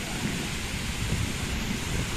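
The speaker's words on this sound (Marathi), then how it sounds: "वारं पण किती आहे बघा" Strong wind gusts mixed with rain during an outdoor thunderstorm, a steady, dense roar of rain and buffeting wind that stays loud and continuous throughout without letting up.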